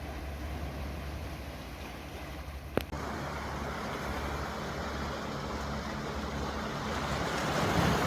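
Sea waves washing onto a shore, a steady broad wash of surf mixed with wind noise on the microphone, with one sharp knock partway through and the roar swelling slightly toward the end.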